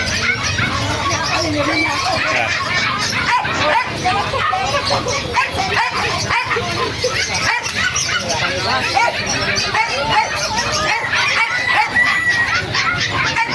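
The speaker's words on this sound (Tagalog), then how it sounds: "Ganda ng mga aso, mga aso." Dogs and puppies at a busy pet market bark and yip in a loud, dense crowd of animal noise, with people talking and occasional fowl calls mixed in.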